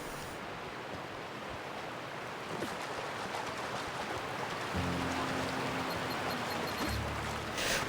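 Steady, broadband rushing of a waterfall in a sci-fi video game, continuous and moderately loud throughout, with a few faint tonal game sounds entering toward the end.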